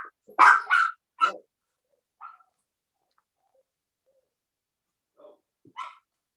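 Dog barking indoors: a short burst of three or four close barks, then a few faint yips and one last bark separated by silence.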